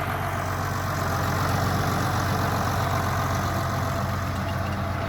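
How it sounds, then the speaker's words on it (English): A farm tractor engine runs at planting time, a loud, steady low rumble with constant broadband noise and no change in pace, close to the listener with no voices. "He said he's gonna run the tractor over where it's supposed to go"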